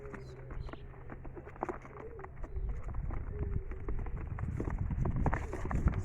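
Young racing pigeons in a basket before a 15-mile release toss give soft cooing and shuffling, wing and foot scuffles against the basket, close by with a steady low background hum.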